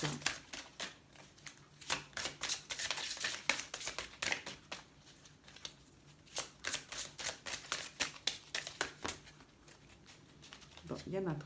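Tarot cards are shuffled by hand in repeated quick riffling bursts, crisp and close, with short pauses between them.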